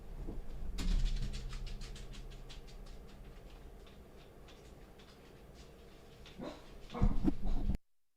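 A dog barks excitedly from another room, a run of rapid muffled barks early on, then quieter, with a louder burst near the end before the sound cuts off.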